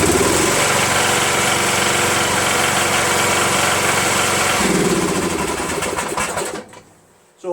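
A Briggs & Stratton 13.5 flathead engine on an MTD Cub Cadet lawn tractor runs loud and steady near the microphone, then cuts off and winds down to near silence in the last second.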